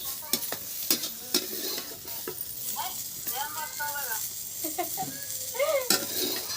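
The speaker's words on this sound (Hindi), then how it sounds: "तो इसी कढ़ाई में हम सब्जी अब छौंक लेते हैं" Vegetables sizzle with chillies in a small kadhai while a spoon scrapes and clatters against the pan in quick irregular strokes, the frying hiss steady underneath and a person talking at times over the cooking.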